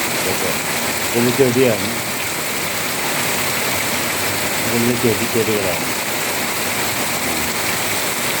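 Steady rain pours over large plants in a home garden in Kalanad, Kasaragod, Kerala, a constant hiss of drops on leaves and ground, with someone speaking briefly over it twice.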